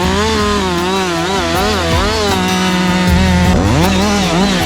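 A chainsaw bucks a log from a leaned tree, its engine roaring loud and close, the pitch dipping and rising as the chain bogs into the wood and revs back up.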